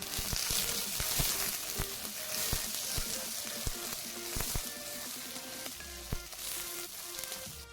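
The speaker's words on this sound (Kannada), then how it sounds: "ಅದಕ್ಕೆ ಮೆಣಸನ್ನು ಹಾಕಿ ಫ್ರೈ ಮಾಡ್ತಾ ಇದ್ದೇನೆ" Chillies and onion frying in a pan, a steady close sizzle with frequent crackling pops and clicks of a spoon against the pan, no talk.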